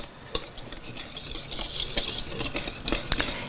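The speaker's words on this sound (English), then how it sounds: "whisk it" Dry ingredients with salt whisked briskly in a bowl, a steady scratchy scraping with sharper clinks of the whisk against the bowl, close and fairly loud, no talking.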